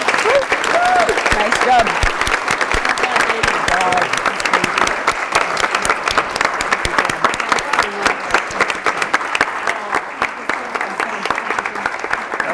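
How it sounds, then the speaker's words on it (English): Sustained, loud applause fills a room at an International Women's Day 2019 gathering, many hands clapping steadily for over twelve seconds while a few people speak over it. "So, big round of applause, please."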